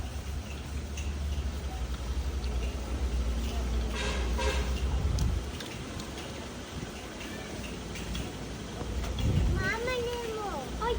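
A vehicle horn honks amid busy outdoor noise at a zoo in Tagaytay, with children and adults talking over it throughout.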